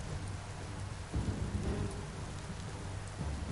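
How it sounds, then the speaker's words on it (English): Heavy downpour in the video game Biomutant, a dense steady wash of rain with a low rumbling bed and a brief swell near the middle, continuous throughout with no talking. "It's like downpour rain."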